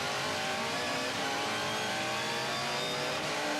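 A Toyota Camry V8 Supercar races at Hampton Downs, its engine heard loud and close from onboard, a continuous high-revving roar with shifting pitch and no talk.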